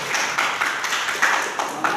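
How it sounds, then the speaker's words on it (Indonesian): Audience applause at a teaching performance event in Surabaya, a dense, steady patter of many hands clapping at close range for two seconds. "Tepuk tangan buat kita semuanya."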